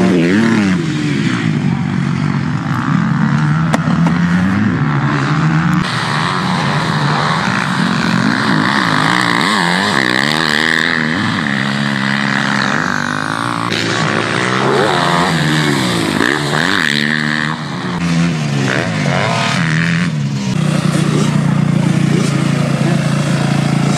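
A 2022 Monster Energy Edition Yamaha YZ450F dirt bike engine roars loud and close throughout a test ride, rising and falling steadily as the throttle works, with no speech.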